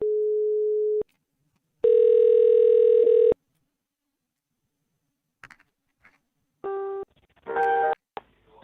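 Telephone call tones while dialing out: a steady dial tone, then a longer continuous tone, followed after a pause by short electronic ring or beep bursts, all clear with no talking.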